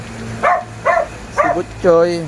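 A nearby dog gives four short yelping barks, evenly spaced, the last one longer and more drawn out.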